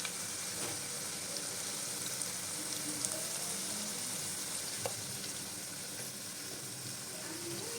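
Vegetarian mock hilsa fish pieces frying in hot oil, a steady dense sizzle running throughout with a few faint clicks of pieces being added, close and continuous with no talk.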